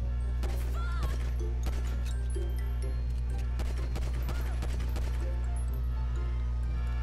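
Police gunfire in GTA V: scattered sharp shots and bursts crack over a constant low rumble of street and engine noise, fairly loud and irregular, with faint voices in the mix.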